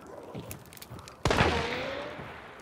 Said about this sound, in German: Es kommt von woanders die Schüsse.